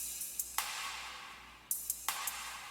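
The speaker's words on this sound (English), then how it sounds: "So this is the perk loop." Percussion loop from a pop song production, a soft hissing bed punctuated by a few sharp hits that come in irregular bursts, heard alone without talk.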